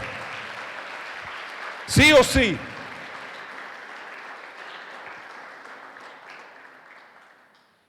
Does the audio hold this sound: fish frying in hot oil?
no